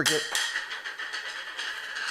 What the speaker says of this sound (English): that was a coaster that fell